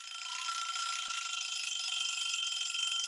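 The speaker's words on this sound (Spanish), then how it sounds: "esta es una alarma de cocina" Kitchen timer alarm ringing, a continuous bright metallic bell rattle that holds steady and loud throughout with no pauses.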